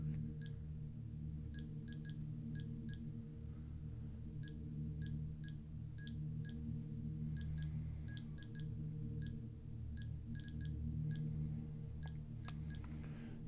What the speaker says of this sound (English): That's beeping now.